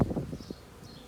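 Honey bees buzz faintly while a beehive is opened for inspection, a soft, low hum with a few brief swells that fades to near quiet within about a second.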